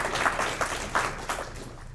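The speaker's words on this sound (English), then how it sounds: "I got excited and was clapping rather than saying thanks" Applause from an audience at a town all-candidates forum in Revelstoke, with a few irregular bursts of clapping across the room that stay moderately loud and fairly steady, without any voices.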